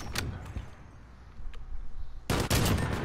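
Video game gunfire in an online shooter: a few sharp shots early, then a loud close burst of rapid fire at the end, with quieter gaps between.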